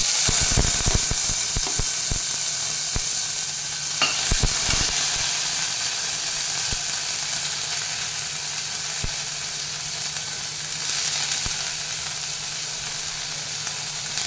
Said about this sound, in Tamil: இப்போ நம்ம நறுக்கி வச்ச வெங்காயத்தை சேர்த்துக்கலாம்